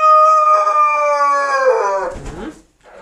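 A newly arrived backyard flock of young laying hens calls near the coop, one bird giving a long drawn-out crow-like cry that breaks into rougher squawks toward the end, close and fairly loud.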